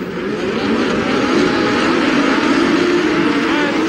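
A field of 1983 Formula 1 racing cars roars away from the start, a dense, steady wall of loud engine noise that barely wavers as the pack pours past.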